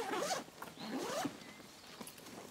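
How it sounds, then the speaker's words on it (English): A two-way zipper on a MultiCam duffel bag is pulled open in a few quick, raspy strokes with short pauses between them, close and clear with no talking. "Again, you have a two-way zipper."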